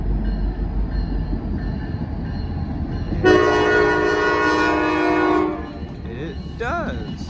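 A freight train led by an EMD SD60 locomotive rumbles past in Muncie, its loud horn sounding a long sustained blast over the steady rolling roar of wheels and engine, followed by the rumble continuing with a voice briefly heard.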